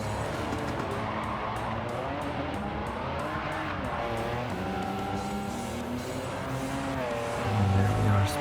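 An Aston Martin DB5 driving fast in Gran Turismo 7, its engine droning steadily and rising in pitch with a brief louder surge near the end, mixed with tire and road noise under the in-game soundscape.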